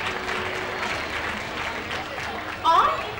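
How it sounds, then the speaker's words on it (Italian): Audience applause for a contestant at a 1999 Miss Graticolato Romano beauty pageant, a steady crowd clapping at moderate level with a voice cutting in briefly near the end. "Facciamo un applauso a Cleopatra."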